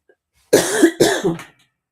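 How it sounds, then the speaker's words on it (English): Two close, rough coughs follow each other after a brief silence, the second trailing off into a short throaty rasp. "Still taking deep breaths. Still coughing."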